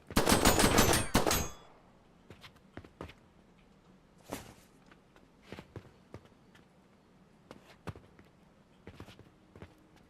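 A rapid burst of automatic gunfire from a video game character opens loud and dense, then gives way to scattered softer single shots and clicks spaced out over a quiet background.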